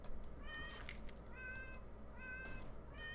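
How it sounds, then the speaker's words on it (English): Cartoonish cat meows from the Fowl Space video game, with kittens fired from a kitten gun hitting the ground: several short, bright meows in quick bursts over a steady low background rumble. "It's a solid sound of cats hitting the ground."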